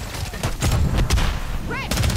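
Rapid bursts of gunfire from the video game Modern Warfare 3, loud and close, with repeated cracks over a busy game soundscape and a brief electronic chirp near the end.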